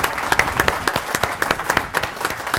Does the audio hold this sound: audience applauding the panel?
yes